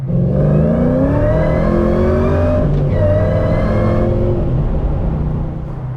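A 1962-67 Chevy Nova with a 345 engine on a Spec chassis launches hard, its V8 roaring loud and close with a steady rising drone and a brief gear-change dip midway.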